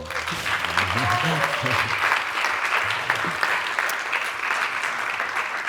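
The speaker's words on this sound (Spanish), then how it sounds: "quizá aplaudimos primero. ¿Queréis aplaudirles?" Sustained audience applause at a design talk, dense clapping throughout with a few brief voices murmuring underneath early on.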